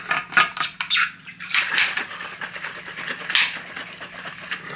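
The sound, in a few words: stirring an electrolyte drink with a spoon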